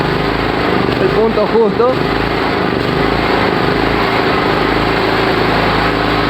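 Gas-powered electric generator engine running steadily close by, a constant droning hum under someone speaking Spanish.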